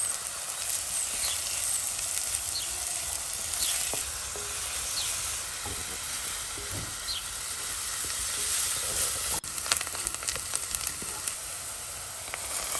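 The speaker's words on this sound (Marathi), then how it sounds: "आणि आता आमी कांदो बरो भाजून घेवप." Onions fry in hot oil in a pot for a Goan seafood curry. A loud, continuous sizzle and crackle holds for the whole stretch, with occasional stirring and a few sharp pops. No one speaks.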